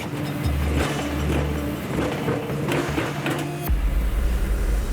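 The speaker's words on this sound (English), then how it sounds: "And again, the tractor is lurching the wrong way." A tractor engine labours during a winching rescue, its low drone rising and dipping under strain, joined by mechanical whining and clanking. The engine pitch drops abruptly near the end.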